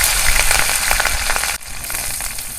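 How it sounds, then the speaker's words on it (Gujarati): Mustard seeds, cumin and lemon hit hot oil in a pan for a village-style Gujarati gathiya curry, giving a loud, steady crackling sizzle throughout with a brief dip midway. "જો તેલ આવી ગયું છે તો રાઈ નાખી દઈશું।"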